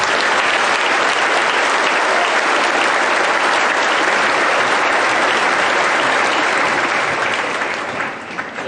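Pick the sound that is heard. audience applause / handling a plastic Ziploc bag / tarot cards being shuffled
audience applause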